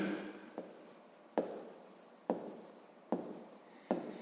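A pen writes on paper for a Grade 5 maths exercise, with short scratchy strokes in bursts of about a second, each starting with a sharp tap. It is close and quiet, with no talking.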